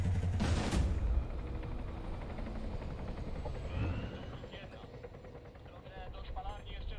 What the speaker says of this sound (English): Sounds like a helo.